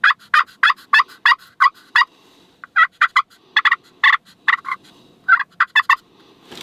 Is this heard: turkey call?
yes